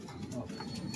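Pigeons cooing in soft, low, repeated murmurs, close by and moderately loud over a steady background hum.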